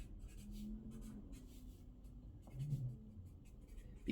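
Writing on a board during a multiplication tables lesson, with faint, soft scratchy strokes in short bursts against a quiet room background.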